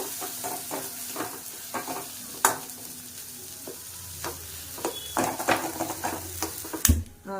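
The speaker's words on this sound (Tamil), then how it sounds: "நம்ம வந்து அந்த பக்கம் சக்கரவள்ளியை வந்து வதக்கிக்கிட்டு இருக்கோம்." Sweet potato sautéing in a pan for a halwa, giving a low sizzle punctuated by sharp clicks and scrapes of a spatula against the pan, with a louder clatter near the end.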